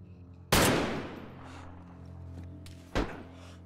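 Two loud close gunshots in DayZ on Namalsk, a sharp blast with a long ringing decay followed by a second shot a few seconds later over a quiet ambient hum.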